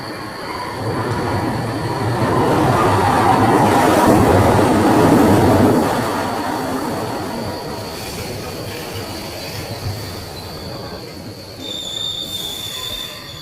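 A train rolls into a station at night as a sound effect for a horror animation, a loud steady rumble of wagons and wheels with a high squeal that swells in the middle and then eases off.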